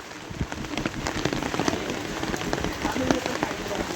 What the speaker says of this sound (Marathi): आता पाऊस आला, छत्रा घेतला.